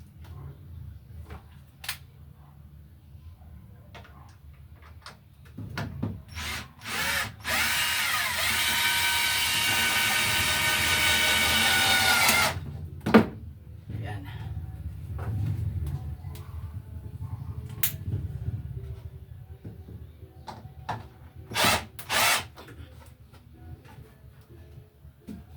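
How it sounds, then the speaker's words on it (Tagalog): Power drill driving long screws into a hanging kitchen cabinet, with a sustained whirring run in the middle, shorter bursts before and after, knocks of wood, and someone talking in between. "So, screw na natin siya dito."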